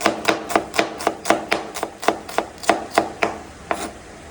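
A knife chops food on a board in a home kitchen, about a dozen crisp, evenly spaced strokes close by at a steady rhythm, alone with no talk.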